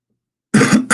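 A single close cough after a moment of silence, followed by a brief second burst at the end.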